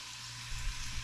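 Onions and garlic sweating gently in butter in a pan over very low heat give a soft, steady sizzle, faint and continuous, growing a little busier partway through.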